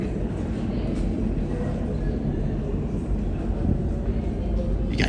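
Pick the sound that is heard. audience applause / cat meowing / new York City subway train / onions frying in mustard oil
new York City subway train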